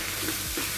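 Brief steady sizzle of an egg frying in a pan for chicken fried rice, a continuous crackling hiss throughout.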